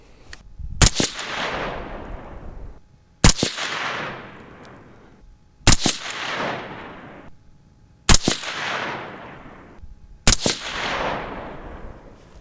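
Five sharp rifle shots from a Uintah Precision UPR15 firing .223 Rem reloads with 77 gr Sierra bullets and Reloder 15.5 powder, each a loud crack with a decaying outdoor echo, spaced about two and a half seconds apart.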